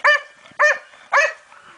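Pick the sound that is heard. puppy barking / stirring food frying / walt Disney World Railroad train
puppy barking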